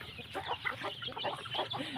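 Chickens cluck in soft, overlapping bursts inside a chicken coop, close and steady, with several birds calling over a light background hum.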